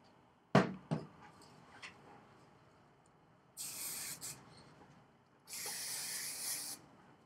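Two bursts of aerosol hairspray, each lasting about a second, misting a set of three small hair curls close up, with a couple of sharp clicks from handling the can before the spraying.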